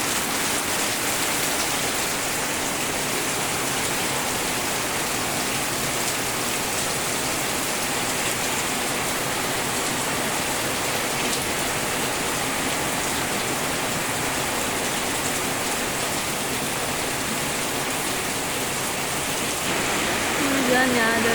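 Heavy rain falls steadily and evenly in a dense, continuous hiss that fills the whole stretch at constant loudness and swells slightly near the end.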